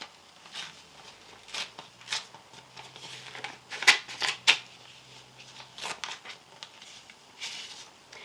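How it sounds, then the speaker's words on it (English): A paper envelope being torn open and handled up close, with scattered rustles and a few sharp ripping crackles in the middle, fairly quiet overall. "I am going to open the first envelope, which says open when you get to page 1"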